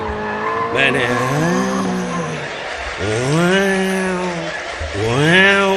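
A man imitates a Formula One racing car with his voice, producing three rising, whining engine-like sweeps that climb in pitch like gear changes and then drop, loud and close.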